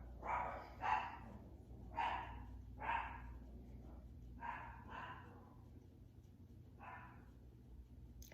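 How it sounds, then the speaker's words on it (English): Dogs barking in the background indoors, about eight sharp, moderately distant barks arriving singly and in pairs at irregular intervals over a low, quiet room hum. "my dogs will keep barking in the background"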